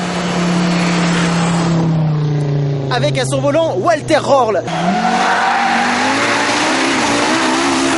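A 1984 Audi Quattro rally car, driven by Walter Röhrl on the Turini road of the Monte-Carlo rally, passes close with a sustained engine drone and a short burst of squealing tires, under steady commentary in French.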